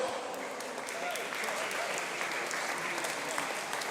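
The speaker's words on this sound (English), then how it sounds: "Let's give a huge round of applause to all of our officials." Steady applause from spectators at a regional swimming championship, greeting the meet officials as they are introduced on the pool deck; continuous, fairly distant clapping under a reverberant natatorium wash.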